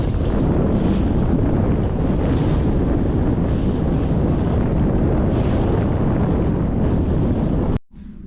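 Strong wind buffeting a sailboat lying at anchor on a 22 kg Sarca anchor with 10 mm chain, a steady loud roar of gusting wind and microphone buffeting with water slap, continuous and unbroken until a brief cut near the end.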